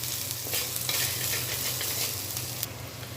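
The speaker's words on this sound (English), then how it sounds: "So let the ginger get sauteed for some time." Grated ginger frying in a pan for a mushroom dish, giving a continuous close hiss and crackle with soft stirring scrapes and a low steady hum underneath, no talking.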